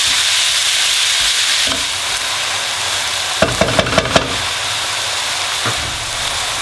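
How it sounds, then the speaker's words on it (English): Steady, loud sizzling of minced meat browning in a hot pan over high heat for spaghetti bolognese, with a brief run of scraping stirs partway through and no talking. "It's important to have a nice high heat in the pan there so we're actually browning the meat off"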